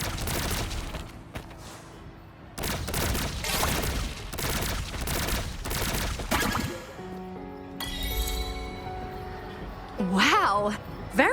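Rapid bursts of gunfire from the Moon Shooter minigame in Wuthering Waves, dense volleys of shots and booms through the first seven seconds, then quieter game effects and chimes follow.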